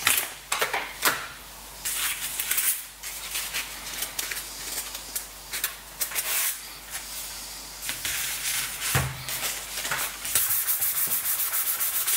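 Hand sanding on the wooden body of a PRS-style DIY guitar kit, with repeated rough scratchy strokes in an uneven rhythm, close and fairly quiet, with no talking.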